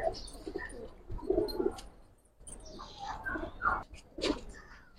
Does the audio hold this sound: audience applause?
no